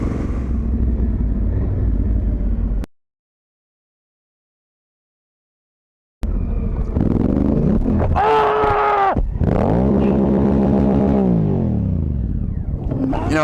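Honda Africa Twin motorcycle climbing over a log off-road, engine revving hard and surging in loud close bursts, with a sudden gap of silence midway before the rising, straining revs return.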